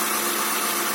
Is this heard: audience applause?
no